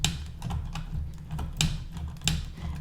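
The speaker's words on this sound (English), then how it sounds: "You'll hear there's also a clicking sound." A Jurassic World Dino Rivals Mega Dual Attack Stegosaurus toy's tail-swing feature clicks in quick, uneven plastic taps, close and fairly loud, about a dozen clicks in under three seconds over a low hum.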